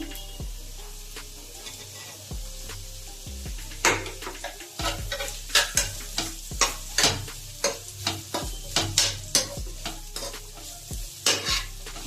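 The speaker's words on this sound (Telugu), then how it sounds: "ఇదంతా గీతోనే చేస్తున్నాం లైట్గా గీ ఇప్పుడు మిల్ మేకర్ వేసేసుకున్నాం" Soy chunks fry in ghee with beetroot and carrot for a veg biryani, a soft continuous sizzle under repeated scraping and clinking of a spoon against the pan, close and rhythmic, with no voice.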